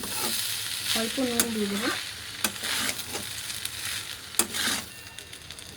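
Chilli chicken rice sizzles and frys in a pan while a spatula stirs the sauce through it, with a few sharp scrapes, under brief quiet talk.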